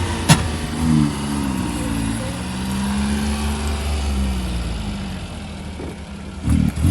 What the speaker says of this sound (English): This is going to be its first burnout.